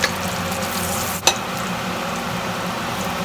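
Garlic frying in oil, a steady close hiss of sizzling throughout with a single brief clink of a utensil partway through, no voices.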